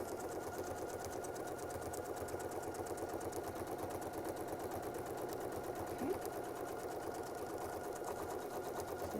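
A sewing machine runs steadily, double stitching one and a half times around a circle with a quilting template, a continuous fine rapid whir that stays even and moderately quiet throughout.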